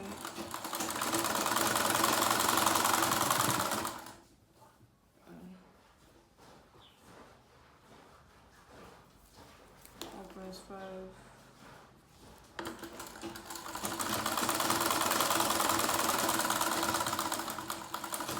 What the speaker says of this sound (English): So I'm just going to sew it down.